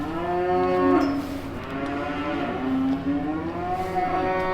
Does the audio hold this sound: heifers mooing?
yes